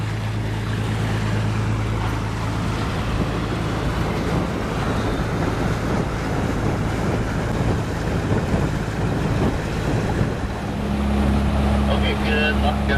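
A motorboat cruising on open sea in Blackfish Sound, just outside the Broughton Archipelago on a sunny summer day, its steady low engine drone and water wash continuous and close, with wind buffeting the microphone.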